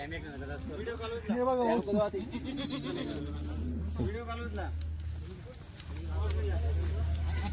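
Kathiawadi goats bleat several times at a livestock sale, wavering calls close by, with someone talking over them and steady background noise.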